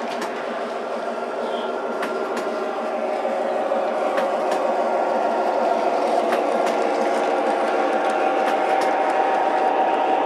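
A steady rolling rumble of a model diesel train pulling a flat car with trailers along track, with occasional sharp clicks over the rails, continuous and close.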